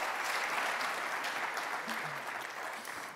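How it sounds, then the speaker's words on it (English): An audience at a live conference closing session gives a warm round of applause as three young systems leaders leave the stage; steady, full clapping that slowly fades, with a few voices murmuring beneath it. "give our three young systems leaders a brilliant round of applause as they leave the stage"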